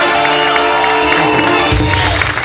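A studio audience at a Marathi comedy show cheers, whoops and claps for Johnny Lever in a dense, loud, continuous roar, with the crowd swelling further toward the end.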